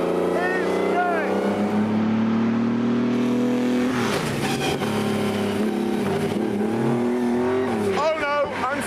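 A Maserati 250F racing car, open-cockpit with no roll bar, runs hard with a loud sustained engine drone, its pitch dipping as the car spins out and then rising again, with someone talking over it.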